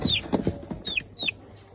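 Roosters of Shamo-type game fowl cluck close by, a handful of short, sharp squawks with rising-then-falling calls spaced irregularly, fairly near and alone without talk.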